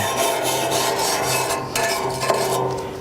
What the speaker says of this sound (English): Wire brush does real well to loosen that up.